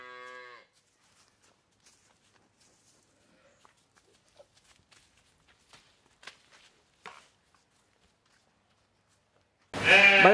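Dairy cows on a Bangladeshi farm moo twice: a short, clear call at the start and a loud, close one at the end, with quiet shuffling and footsteps between.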